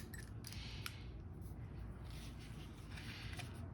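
Scissors snip adhesive paper while a matchbook-style gift card holder is being trimmed, giving a few scattered, quiet cuts and crisp clicks over a noisy background.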